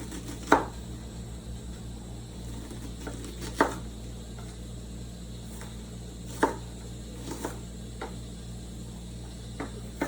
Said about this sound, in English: I am chopping up the rest of this onion to make some pico